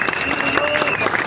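A crowd applauds the president at a gathering, with a short burst of dense clapping under a speaking voice.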